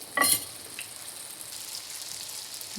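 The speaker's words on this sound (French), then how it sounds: "je le retire et je le plonge dans l'huile à côté" Moroccan beignets sizzle in hot oil, a brief clink near the start followed by a steady, fairly soft crackling hiss that continues alone.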